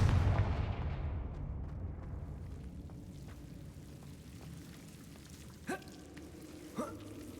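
A Confringo blasting spell from a Harry Potter video game bursts loudly at the start and rumbles away into a long fading tail, followed by two brief, sharp distant pops later on.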